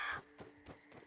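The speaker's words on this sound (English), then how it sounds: "I'm hearing the bird. That makes me scared." Three harsh crow caws from the video game Grounded, spaced about a third of a second apart, the first loudest and the later two fainter, heard alone with no talk.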